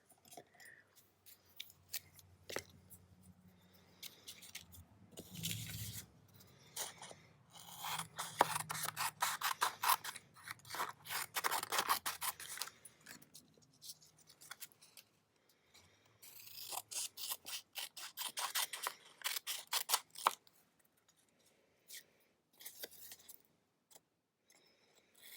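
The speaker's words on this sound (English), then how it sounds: "Grab my scissors and a glue stick." Scissors snip paper for a mixed media collage in repeated bursts of crisp cuts with pauses between, close and alone with no talk.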